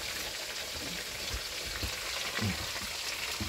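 Steady hiss and crackle of food frying in hot oil, continuous and fairly close, with a few soft pops and clinks mixed in.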